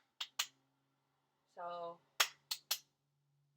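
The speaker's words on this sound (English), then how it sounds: "So when I clap, the rhythm should be" A person claps out a rhythm of eighth and sixteenth notes for an intermediate band flute sectional: two sharp, close claps, a short spoken word, then three quick claps.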